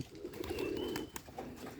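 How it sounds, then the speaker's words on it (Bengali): Bombay pigeons coo softly nearby, a short run of low murmuring calls sounding faintly with no one speaking. "দেখুন বোম্বাই কবুতর কি সুন্দরভাবে ডাকাডাকি করতেছে"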